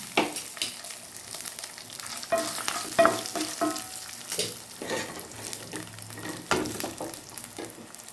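Eight garlic cloves frying in a pan for a curry leaf chutney, a continuous close sizzle with spoon stirring and scraping throughout, and no voices.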